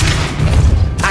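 Depulso spell cast in the game Hogwarts Legacy, a short loud booming thump with a crashing impact and a brief whoosh at the end.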